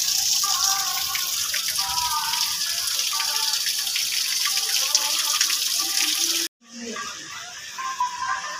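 Water flows steadily at a Radha Krishna temple in Odia-speaking India, a constant broad rush that drops out briefly near the end and then resumes, with faint voices in the background.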